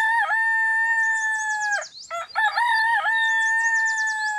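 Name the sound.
chickens clucking and crowing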